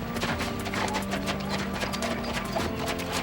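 Horse hooves clip-clop steadily and close by during riding on a film set, a dense rhythmic patter of steps with no talk over it.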